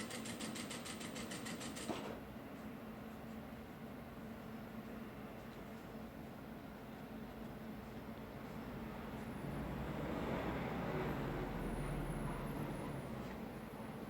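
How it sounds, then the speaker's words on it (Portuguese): A home sewing machine stitches fabric for a small owl-shaped door stop, giving a faint, steady mechanical whir that grows slightly louder near the end, with no talking. "e venho costurando."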